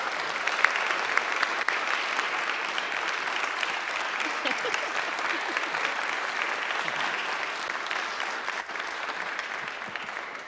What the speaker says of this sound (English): Can we give our amazing team a round of applause?